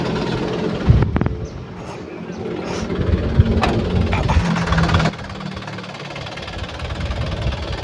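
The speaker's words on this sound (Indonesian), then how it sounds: "Oke, ini mesin udah kita nyalakan." A 2010 Isuzu Panther Pickup Turbo engine fires up with a sharp thump, then settles into a rough, knocking idle that runs on steadily, slightly quieter after a drop partway through.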